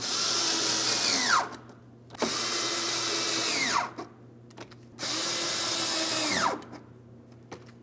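A power tool tightens bolts on a Ford Edge in three loud close bursts, each one whirring and then winding down with a falling whine, with quiet gaps between them.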